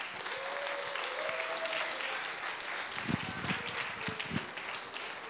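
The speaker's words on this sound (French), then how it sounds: "On applaudit encore plus fort" Crowd applause at a French-language church gathering, continuous and fairly loud throughout, with voices and a few thumps mixed into the clapping.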